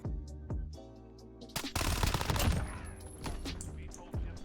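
Fennec submachine gun in Modern Warfare, a short dense burst of very rapid automatic fire at mid-clip, with muffled game sounds and scattered steps around it.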